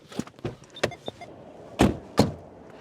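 An Alfa Romeo 155 V6 door shuts with two dull, solid thuds close by, after a few lighter clicks and knocks from the latch and handle.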